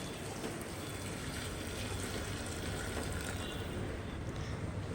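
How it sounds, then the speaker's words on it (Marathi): Heated water pouring steadily into a pot of chicken curry, a continuous close splashing gush running alone without pause. "गरम केलेलं पाणी टाकूया"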